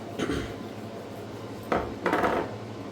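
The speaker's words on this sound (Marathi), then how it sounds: "चवीनुसार आपल्याला मीठ टाकायचे त्यात आणि हे सगळं मिक्स करायचं आहे आपल्याला" A spoon scrapes and clinks against a bowl while jowar batter is mixed with salt, a few short knocking strokes close by, separated by brief pauses with no talking.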